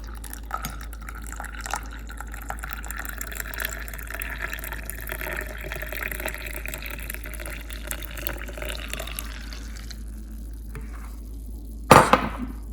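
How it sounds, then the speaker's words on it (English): Milk pours steadily into sweetened South Indian filter coffee, a continuous liquid trickle lasting several seconds before tapering off, ending with a brief louder splash. "So we are adding some sugar to it, and let's add some milk."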